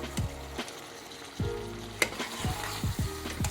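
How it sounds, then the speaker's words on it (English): A spoon scrapes and stirs a potato and aubergine curry in a sizzling pan, several rhythmic scraping strokes over a soft continuous fry, close and fairly quiet. "So let's give this a bit of a stir."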